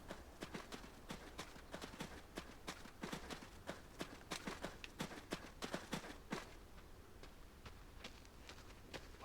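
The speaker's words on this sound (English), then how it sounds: "Horses are God's most beautiful creatures." Horse hooves clip-clop in the game Adios, a quick regular run of sharp knocks, fairly faint, each hoof strike distinct against a quiet background.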